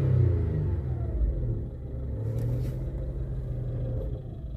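Car engine idling steadily, a low continuous rumble close by with a slight waver, no voices.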